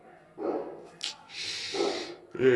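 A dog makes short barks mixed with snorts and whimpery breaths, fairly close by, with brief pauses between outbursts.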